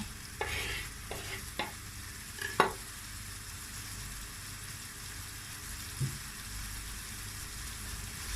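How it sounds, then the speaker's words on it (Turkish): Diced tomatoes and vegetables sizzle quietly in a pan, with a few scraping stirs of a utensil near the start and a soft clink later. "Bunları hepsini biraz soteleyeceğim."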